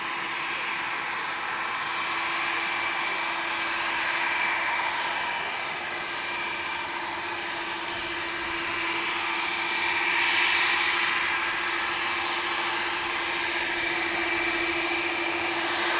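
A jet airliner taxis at Dublin Airport, a steady, continuous engine whine with a constant tonal hum that holds at moderate distance, swelling slightly midway, with no talk over it.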